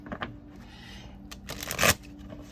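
Tarot cards are shuffled by hand in a quiet room, with soft riffling bursts and flutters, the loudest flurry near the end.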